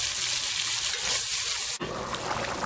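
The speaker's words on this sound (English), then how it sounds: "So here's where we're going to add some water in there." Water poured into a hot pot holding duck pieces and oil, a loud steady hiss and rush of liquid that shifts abruptly partway through into a rougher, bubbling sizzle.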